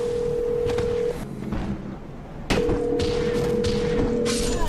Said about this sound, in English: Let me call Kelly